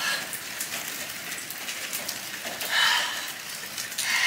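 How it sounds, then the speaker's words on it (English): Steady rainfall pattering outdoors on a day of heavy showers, a continuous fine hiss at moderate level with a slight swell near the end, no talking. "I don't mind the rain so much, especially here because it's so needed."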